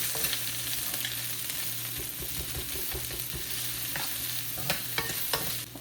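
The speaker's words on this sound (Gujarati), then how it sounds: "ગાર્લિક થાય તો ઓનિયન, કરી દઈએ મિક્સ." Garlic and onion frying in a pan for street-style Hakka noodles, stirred with a utensil: steady sizzle with repeated scraping and clicking strokes, close and moderately loud, no talk.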